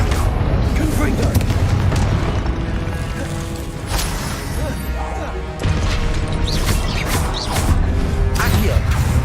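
Spell explosions from the Confringo curse in Hogwarts Legacy, a loud dense run of crashing blasts and booms over game music and effects, with a voice calling out the spell name through the clip.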